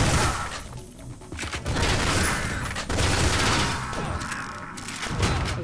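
Gunfire and explosive bursts from the retro shooter video game Ion Fury, a dense run of loud shots and booms with crashing impacts, no pauses, backed by game sound.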